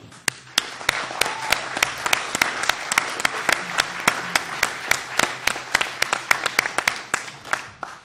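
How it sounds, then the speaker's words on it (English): An audience at the University of Salford Journalism Awards 2014 ceremony applauds the students with sustained, close applause, sharp individual claps standing out at a steady pace throughout. "I think you all deserve a big round of applause"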